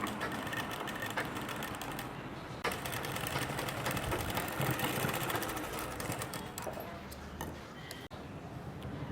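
A sewing machine stitches pleats on a silk pattu pavadai skirt, a fast steady mechanical whirring hum that runs continuously at moderate volume with a brief hitch near the end.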